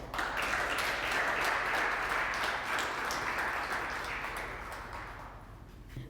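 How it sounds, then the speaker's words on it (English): An audience at a high school letter of intent signing gathering applauds warmly for a student athlete. The clapping is dense and sustained and fades gradually toward the end. "let's rally and cheer for our Woman of the Hour"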